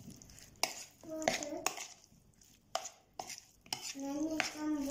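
Utensils scrape and clatter against a bowl as potato salad is tossed and mixed, with a few brief louder knocks and soft squishy stirring in between.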